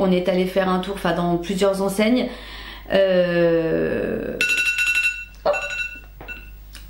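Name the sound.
phone alarm going off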